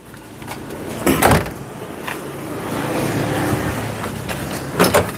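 Hood of a used car for sale being opened to check the engine, heard as a couple of clunky metallic latch and hinge knocks near the start and again at the end, over steady outdoor background noise.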